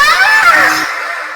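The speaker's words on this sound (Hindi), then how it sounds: "तभी हमें माँ की चीखने की आवाज सुनाई दी" A woman's high, piercing scream, loud and drawn out, sliding in pitch before trailing off abruptly.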